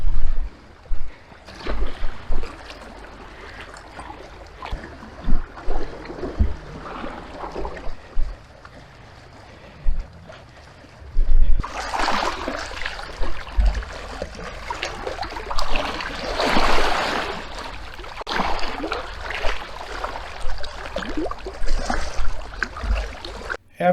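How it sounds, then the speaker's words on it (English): Water laps and splashes steadily along a lake shoreline in Voyageurs National Park, with gentle wave washes that grow fuller and louder in the second half, no voices or birds present. "No birds singing, not a sound except for the waves."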